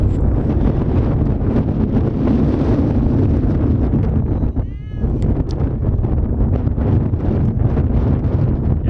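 Strong wind roars steadily across an outdoor softball field, a constant loud buffeting rush against the microphone with a brief dip partway through.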